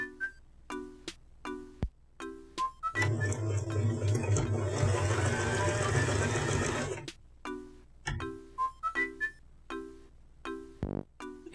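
A sewing machine stitches fabric for an Isabelle cosplay costume in one continuous whirring burst of about four seconds, framed by scattered light clicks and taps before and after.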